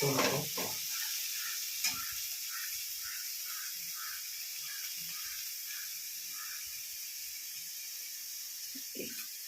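Soft continuous sizzling of onion and tomato sautéing in a pan, with faint rhythmic stirring scrapes and occasional clinks, close by and fairly quiet.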